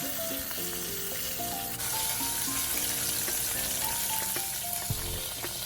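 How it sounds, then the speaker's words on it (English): Spices fry in a pan over medium heat for a homemade marinara sauce, giving a steady close sizzle with light stirring and a few clinks of utensils, no voices. "Make sure to just put the heat to medium to avoid burning off the spices."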